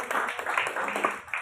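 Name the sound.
applause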